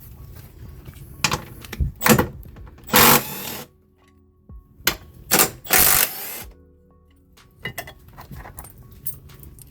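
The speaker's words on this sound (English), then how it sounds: "that's going to be a 60mm socket for these two bolts right here" A socket wrench ratchets on bolts in the engine bay of a 2010-2017 BMW 535i during coolant reservoir removal, with bursts of quick clicking strokes separated by pauses, close and clear.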